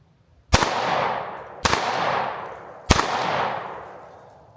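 Three sharp, loud pistol shots from a new Sig P365 X Macro, spaced about a second apart, each ringing out with a short echoing tail outdoors.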